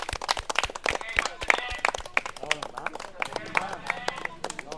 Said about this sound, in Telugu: మనందరం ఒకసారి గట్టి క్లాప్స్ తోటి కృతజ్ఞతలు చెప్తున్నాం